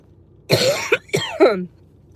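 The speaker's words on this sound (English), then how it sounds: "I'm having a coughing fit." A short burst of harsh, rasping coughs, two or three in quick succession, close by, then quiet.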